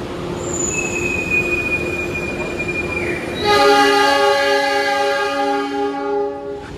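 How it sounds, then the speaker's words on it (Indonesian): An Indonesian local train rolls by on the rails at a Surabaya station with a sustained metallic squeal, then a loud, multi-toned horn blasts nearby and holds. "Ini sana ada rangkaian kereta lokal Supas"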